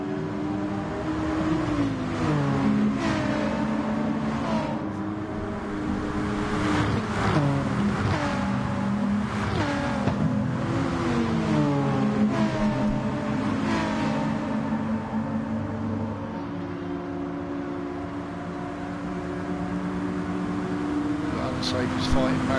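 Race cars in a Spa video game race rev and strain through a corner, several engine notes rising and falling continuously at close range, with a commentator talking over them throughout.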